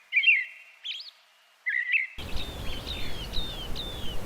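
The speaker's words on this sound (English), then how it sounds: "The Canada jay has many nicknames like Gray Jay," Several short whistled chirps and calls from a Canada jay, also known as gray jay, come in bursts against near silence, then continue more faintly over steady outdoor background noise.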